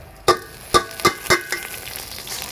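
Washed Gobindobhog rice going into a pan of fried onion and chili, with a few sharp hissing sizzles and rattling thuds in quick succession, then a steady low frying hiss.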